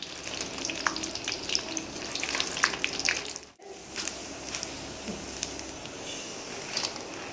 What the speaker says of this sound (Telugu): మనము పల్లీలు, కలేమాకు, తెల్లగడ్డ కూడా ఫ్రై చేసి ఇందులో వేసేసుకుందాం.